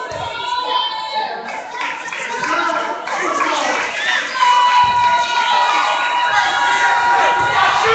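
A visiting crowd at a basketball game cheering and shouting in a gym, a loud sustained roar of many voices with whoops and youthful yells throughout.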